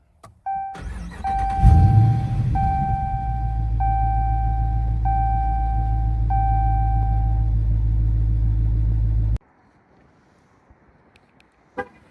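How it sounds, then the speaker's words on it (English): Dodge Charger R/T muscle car starting with a push-button ignition: a chime and crank, then a loud rumbling V8 idle with repeated warning beeps over it, cutting off abruptly near the end, followed by a faint click. "put your foot on the brake, hit the dash mounted button to start it."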